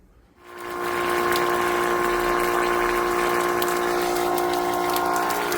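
Water drains from a crusty 17-year-old household water heater during its replacement: a steady, loud rushing hiss with faint tonal ringing begins abruptly after a brief quiet moment and continues without letup.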